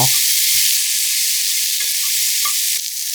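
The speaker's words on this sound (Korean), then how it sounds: "감자 큰 거 1개 썰어 넣고 당근 반 개도 감자보다 조금 작게 썰어 넣고 볶아주세요" Sliced potato and carrot stir-fried in a pan with meat, giving a steady broadband sizzle with a few light scrapes of stirring, close and continuous, no talk.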